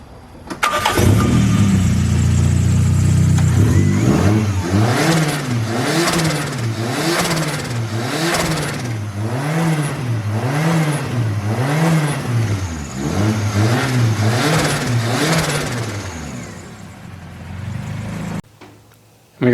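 A turbocharged Toyota Starlet GT with a first-gen 5E-FE engine fires up and revs, loud and close, with a steady rising-and-falling rhythm of about ten throttle blips over a rough idle before shutting off.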